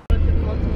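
Car on the road heading to a medical appointment in Málaga, a close, steady rumble of engine and road noise that starts with a sharp click and continues evenly.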